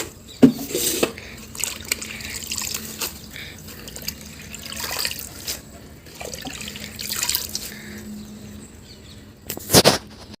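Gongura leaves are swished and splashed in a bucket of water, irregular close sloshing and dripping bursts with a louder splash near the end and no talking.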